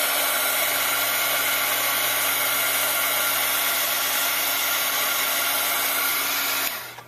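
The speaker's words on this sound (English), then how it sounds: "we're going to turn our heat tool on that" A heat tool blows hot air onto a handmade birthday card, a continuous loud fan whir with a steady hum running the whole time before it cuts out at the end.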